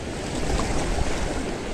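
Steady sea waves wash and roar continuously at a shoreline fishing spot, a dense unbroken surf noise with some wind, no voices.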